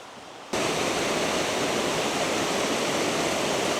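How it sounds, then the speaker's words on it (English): Running water of a creek spilling over a fallen log in a small waterfall, a steady broadband rush that cuts in abruptly after a brief quiet moment and continues loud and unbroken, close by. "listening to the sounds of the running water"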